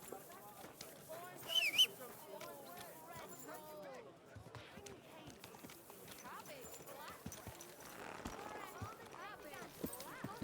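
Horse hooves clopping at a steady trot in the medieval video game Kingdom Come: Deliverance II, running under continuous speech.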